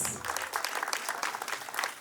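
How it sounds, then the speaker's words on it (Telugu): Audience applause at the Super Star Krishna Award 2025 function; brisk, dense clapping from a crowd throughout, fairly loud and close, with no talk over it. "క్లాప్స్ అండి ప్లీజ్."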